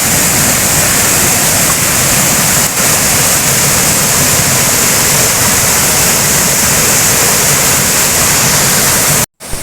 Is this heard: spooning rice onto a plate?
no